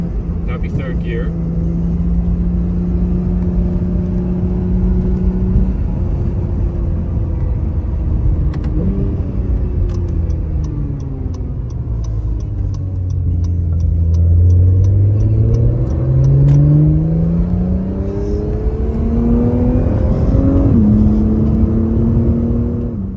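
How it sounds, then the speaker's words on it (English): A 2022 Acura NSX Type-S with aftermarket exhaust and downpipes that remove the secondary cats, paddle-shifted in manual mode. Its loud, close engine note climbs and falls through gear changes, with a deep low drone in the middle. "This particular NSX has aftermarket exhaust and downpipes, which removes the secondary cats. This is why this particular car sounds so good."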